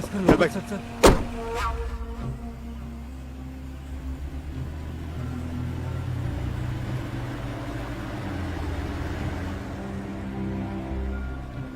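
A car door clunks open with a couple of sharp knocks near the start, then a car engine rumbles steadily as the vehicle pulls away and keeps driving.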